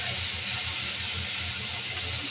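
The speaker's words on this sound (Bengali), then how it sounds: "চিংড়ি মাছ এক পাশ ভাজা হয়ে গেছে, উল্টে নেব" Prawns fry in a pan with a constant dense hiss of oil, steady and close with no voices.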